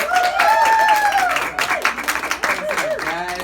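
An intimate radio listener-lounge audience claps and cheers for the artist Max, a lively close burst of applause with whoops, while people talk over it.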